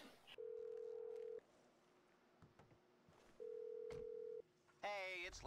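Phone call in GTA V rings out unanswered, two long steady ring tones with a pause between, fairly clear, followed by a short burst of game sound.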